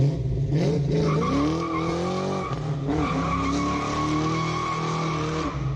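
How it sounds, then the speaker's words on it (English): A car with an intentionally loud exhaust system roars and revs hard, its engine note rising and falling in surges with tire squeal, loud and close, with no talking. "So what's the appeal of an intentionally loud exhaust system?"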